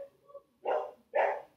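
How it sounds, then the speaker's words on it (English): A dog barks twice, loud and close, with a short pause between the barks and a faint yip just before. "Sorry about the barking, guys."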